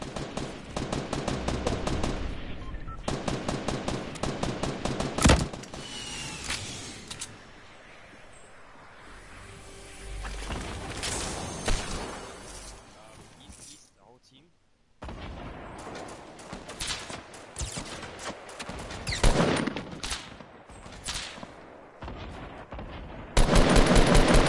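Gunfire from a PS4 video game rattles in rapid automatic bursts and single loud shots, dense and close, continuing with brief lulls and a short drop to near silence before resuming, with no one speaking.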